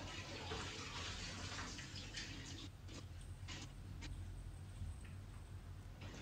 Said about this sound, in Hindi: मैं इसको स्ट्रेन कर रही हूँ। अच्छे से स्ट्रेन कर लेना है।